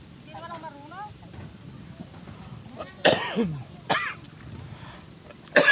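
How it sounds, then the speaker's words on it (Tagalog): Several loud, close coughs, one harsh burst followed by a shorter one and a final cough, during seedling pulling, over faint background chatter and a quiet motor. "Inuubo na yung taga-videos."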